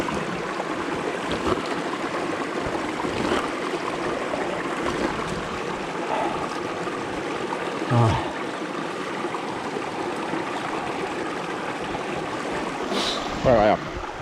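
Clean mountain stream rushing on a hike near Per Karlsatind, a continuous close wash of flowing water heard throughout, with brief handling bumps and faint voices in the background.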